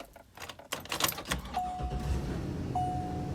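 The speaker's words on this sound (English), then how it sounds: "if you push it to the right all the way, it actually locks the doors" Power door locks on a converted bus are operated by a switch, giving a muffled clunk and rattle followed by two thin, steady electric whines of an actuator motor, fairly close and with no talking.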